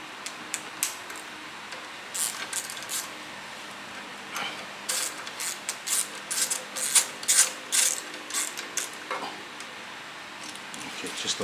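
An M8 bolt is tightened with a 6 mm hex key during an AC and power steering delete kit install on a K24 engine, giving a series of quick metallic ratcheting clicks in short irregular bursts, close and moderately loud.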